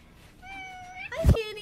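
A single drawn-out cat meow rising and then breaking into a sharper cry, close and clear over a quiet room.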